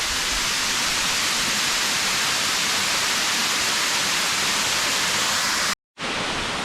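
Kaijoda waterfall in Keonjhar pours in a steady, loud broadband roar that fills the whole stretch, broken by a brief cut near the end before resuming.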